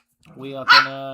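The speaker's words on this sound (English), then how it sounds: "You can probably hear her barking in there." Bo, a pet dog, gives one sharp bark in another room, tangled with a person talking close by.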